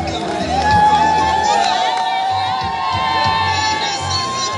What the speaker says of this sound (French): Nous redescendons, vous entendez les cris.